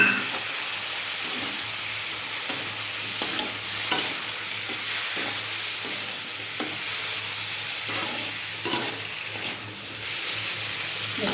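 Raw prawns sizzle steadily in a hot pan, with frequent scraping stirs from a spatula cutting through a continuous bright hiss of frying.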